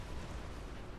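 Cannon fire from a Napoleonic-era battle in the strategy game Napoleon: Total War, a dense continuous low rumble of booming artillery, fairly quiet and with no speech over it.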